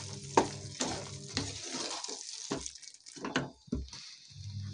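Coriander being stirred into baingan bharta (mashed roasted eggplant) in a pan: soft scraping strokes of a spoon, several separate bursts with brief pauses, close and moderately quiet, with a faint background hum.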